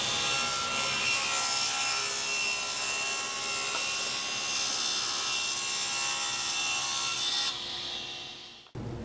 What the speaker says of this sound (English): we'll cut those at a slight bevel on the front so they're matching width